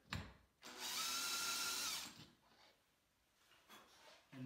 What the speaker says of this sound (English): And now I will drill a larger hole in the bracket so the mounting screw can float in that hole.